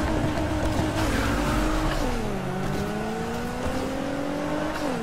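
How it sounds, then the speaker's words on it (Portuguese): A Nissan GT-R in Need for Speed races with a steady, rising and falling engine whine as it shifts gears, with tire noise underneath and a continuous mid-level drone throughout. "Eu vou andar com esse carro de leve."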